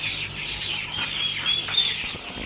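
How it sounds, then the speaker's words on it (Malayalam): Chicken chicks in a pet shop give a steady, busy stream of high, overlapping peeps and chirps, close by and moderately loud, with no one talking. "ഇവിടെ കുറച്ച് കോഴി കുഞ്ഞുങ്ങളുണ്ട്."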